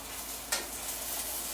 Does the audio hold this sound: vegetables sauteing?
yes